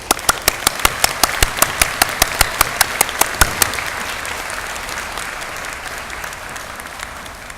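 Broad applause fills a university graduation ceremony hall, with a few loud, evenly spaced close claps standing out in front during the first half before the crowd clapping continues as a steady wash.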